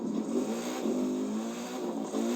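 A sports car engine in the video game The Crew 2 revs steadily, its tone climbing and dipping in waves, loud and close with no talking.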